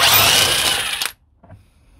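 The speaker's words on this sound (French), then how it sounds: "donc clé à choc et douille de torx au-dessus pour maintenir" Impact wrench with a Torx socket loosening a corroded suspension arm bolt, a loud harsh rattling burst for about a second that cuts off abruptly, followed by a faint clink.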